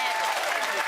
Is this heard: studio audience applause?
yes